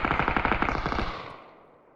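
Automatic weapon fire in the battle royale game PUBG: a loud rapid burst of a dozen or so evenly spaced shots over about a second, then an echoing tail fading out.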